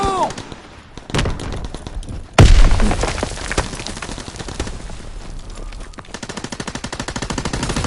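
A loud grenade blast at about two and a half seconds in Call of Duty WWII, set against steady rapid gunfire that keeps rattling before and after it.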